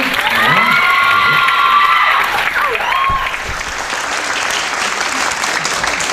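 Audience applause welcoming a speaker on stage, steady and full, with a voice and tonal sound over the first seconds before the clapping carries on alone.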